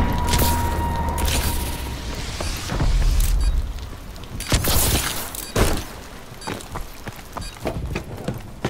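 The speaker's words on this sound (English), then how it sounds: "Friendly missile strikes incoming." Missile strike explosions in Call of Duty: Advanced Warfare, a dense run of loud blasts and booms with crackling debris that pound heavily for the first few seconds before thinning into scattered, sharper bursts.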